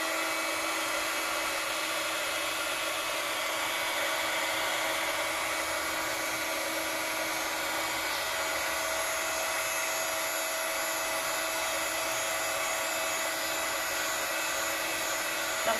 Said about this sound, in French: on prend son pistolet chauffant et on chauffe, ça va gonfler